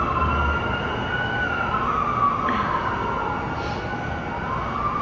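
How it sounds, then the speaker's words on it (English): Emergency vehicle sirens wail steadily in the background during flooding in Abbotsford, BC, a continuous rising and falling tone over constant outdoor noise, with no talking. "You can hear the sirens in the background."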